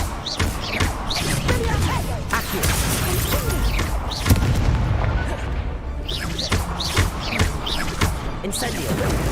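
Incendio fire spell cast in Hogwarts Legacy on Xbox Series X, a dense, roaring run of booming blasts and crackling bursts that stays loud throughout, with short sharp hits scattered over it.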